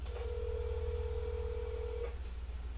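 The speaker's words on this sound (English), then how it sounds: "We're gonna call Davita." A single sustained telephone dial tone sounds for about two seconds over a low steady hum, clear and close, with no voices.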